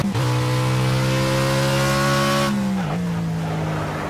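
Race car engine at Brands Hatch in an online racing video game, running hot at 110 degrees, holds a loud, steady high-revving drone, then dips briefly as it shifts and settles into a slightly lower whine.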